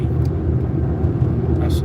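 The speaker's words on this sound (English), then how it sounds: "there's a truck right next to me" A truck travels right alongside a car on a storm-damaged road, its steady low rumble and road noise continuous and close throughout, with a voice talking over it.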